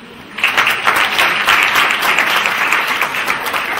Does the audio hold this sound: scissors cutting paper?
no